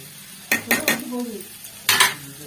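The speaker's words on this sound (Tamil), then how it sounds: "தேங்காய் போட்டு நல்லா கிண்டி வச்சுக்கலாம்." A spoon scrapes and stirs grated coconut into cooked beetroot in a metal pan, with a few distinct clanks against the pan and a soft sizzle between them, close and clear without talk.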